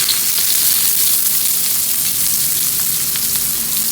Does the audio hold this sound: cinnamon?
yes